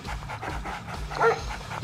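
A dog in a video game pants in quick, rhythmic breaths, close and fairly loud, with a brief whine-like tone partway through.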